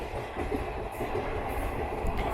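The Surat–Mumbai Flying Ranee Express runs on Western Railway tracks near Parel, giving a steady close rumble of wheels and carriages with faint rhythmic clacking.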